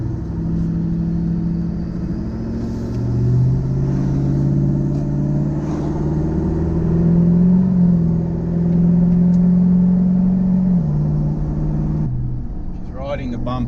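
A vehicle towing a boat trailer on the road, its engine humming steadily from inside the cabin with gentle rises and a shift in pitch, a low road rumble underneath and a voice briefly talking near the end.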